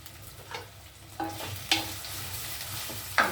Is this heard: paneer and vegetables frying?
yes